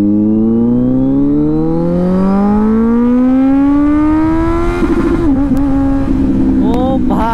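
Kawasaki Z900 BS6 motorcycle revving hard in first gear, engine pitch climbing steadily for several seconds before dropping and rising again as the throttle is blipped, loud and close throughout.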